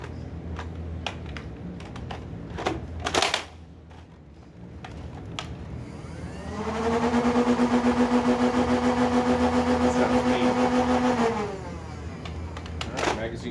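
A Rival Khaos paintball loader with a magazine fitted spins up into a steady motor whine for about five seconds, preceded by scattered clicks and handling sounds.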